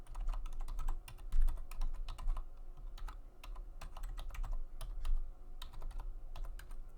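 Someone types steadily on a computer keyboard nearby, with quick bursts of clicky keystrokes broken by short pauses, and no voices.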